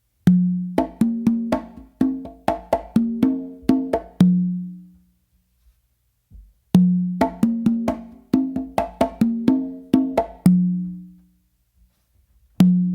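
A full mambo tumbao on conga and tumba drums: a close, loud run of slaps and ringing open tones that ends on a deep sustained tumba note, then a short pause and the pattern repeats.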